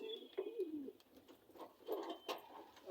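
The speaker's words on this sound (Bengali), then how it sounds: "আমার একটা ছোট কবুতরের খামারও আছে" Pigeons coo faintly in a small pigeon house on a farm, with soft repeated throaty calls spaced across a quiet background.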